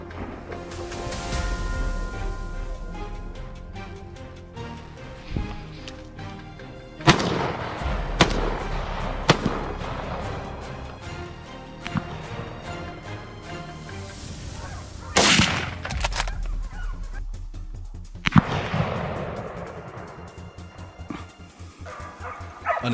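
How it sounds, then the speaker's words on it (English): Rifle shots crack out repeatedly during a wild boar hunt in dense jungle fields, loud sharp blasts spaced irregularly across the stretch, with dogs barking in between. "The bullet struck true, piercing its body, and the boar collapsed instantly."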